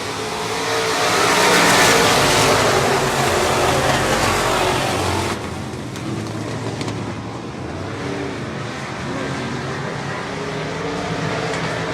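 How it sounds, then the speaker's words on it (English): Stock cars race at Cotton Bowl Speedway, a loud, steady roar of several engines passing close, swelling early and then settling into a sustained drone. "Three-car battle now, 3 wide for third between the 43, the 10, and the 53"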